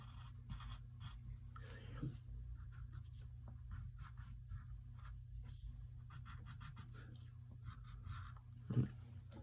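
A pencil draws Mr. Krabs' belt on paper, giving faint, close scratchy strokes in a quiet room with a low background hum and no talk.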